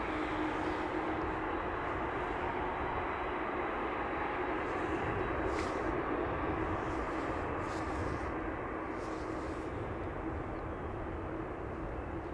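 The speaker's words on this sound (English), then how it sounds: "The KLM 747 is on the move." KLM Boeing 747 airliner taxiing at Amsterdam Schiphol Airport, a steady distant jet engine roar and hiss holding at an even level throughout, with no voices.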